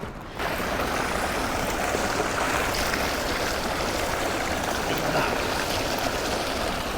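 Fast-flowing river water in the mountains near Harshil, heard as a loud, steady broadband rush that continues unbroken throughout, with no voices over it.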